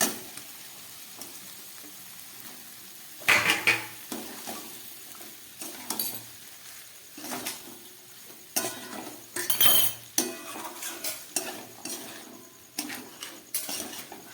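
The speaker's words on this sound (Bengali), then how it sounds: "হালকা করে একটু ভেজে নিই।" Boiled peas and potatoes fry with dry chillies and spices in a pan, a low sizzle beneath repeated scraping and clinking of a spoon stirring against the metal, close and without speech.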